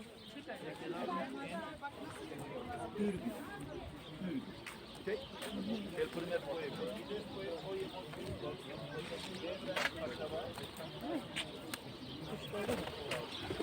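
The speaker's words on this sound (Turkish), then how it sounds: "Burada burada kuşlar." Pigeons coo softly and repeatedly in Pigeon Valley, Cappadocia, an outdoor valley of rock cliffs, partly under people chatting nearby.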